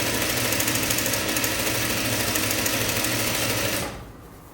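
A sewing machine runs a steady continuous seam through jumpsuit fabric, loud and close, then drops to a quieter hum near the end.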